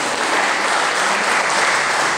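Sustained applause from an event audience gathered for a community music welcome, dense and steady throughout at full strength, with no voices standing out.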